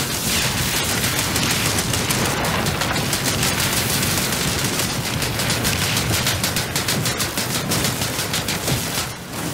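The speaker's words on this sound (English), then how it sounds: "Who's shooting us?" Dense, continuous automatic gunfire and overlapping shots from a first-person shooter video game, loud and sustained throughout with rapid crackling bursts and no pauses.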